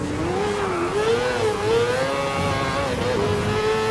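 Mazda 787B rotary race car in Gran Turismo Sport, its engine holding a loud, steady high-pitched wail that rises and dips slightly as the car runs, with no pause throughout.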